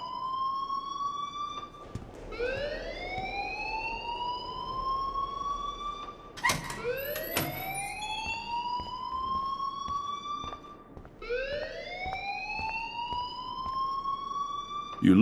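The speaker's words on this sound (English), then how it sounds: "please turn off that alarm since that's your job" An alarm in the Life Is Strange video game blares as a loud electronic whoop, each tone sweeping upward and then holding. It repeats three times in a steady cycle with brief breaks between.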